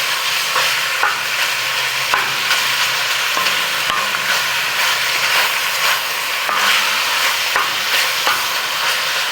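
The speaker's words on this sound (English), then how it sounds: "Okay, so our bacon is rendering down nicely." Bacon rendering down in a pan, giving a steady, loud sizzle with constant crackling and occasional sharper pops throughout, and no voices.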